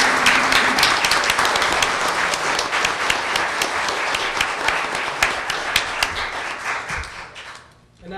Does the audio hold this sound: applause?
yes